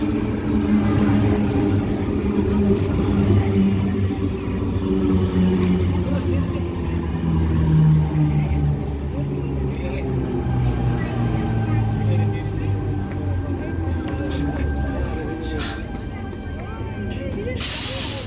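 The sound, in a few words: suburban train arriving at Wahroonga station, set T31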